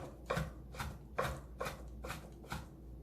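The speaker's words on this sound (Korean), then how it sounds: "단칼에 힘을 주시고 바짝바짝 힘을 주시고 썰어 주셔야 되겠어요" A knife slices tough meat into thin strips on a cutting board in a Korean cooking lesson, with six evenly spaced chopping strokes, quiet and close, with no talk over them.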